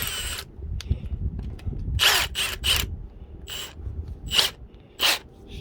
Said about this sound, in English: even though these are impact ready, you can use them in a normal drill